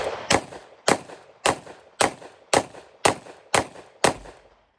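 Eight pistol shots at a target seven yards out, fired at an even pace about half a second apart, each a sharp, close crack with a short decaying tail.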